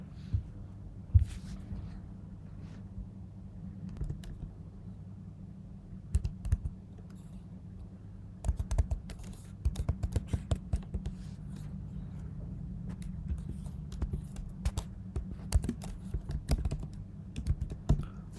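Typing on a computer keyboard to enter an email address at a sign-up screen, a close run of quick key clicks that goes sparse at first and then quickens into steady bursts, over a low background hum.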